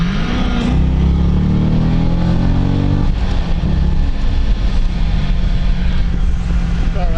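A 2005 Chevrolet Corvette Z51 accelerates on the road from about 30 mph, its engine a loud, steady roar that climbs in pitch, steps down at a shift about halfway, then drones on under continuous road noise.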